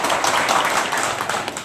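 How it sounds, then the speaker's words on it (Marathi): An audience at a village cooperative society meeting claps to congratulate the new chairman and vice chairman: a short, even burst of many hands clapping at once, fairly close and loud. "आपण सर्वांनी या दोघांचं प्रथमतः टाळ्या वाजवून अभिनंदन करू"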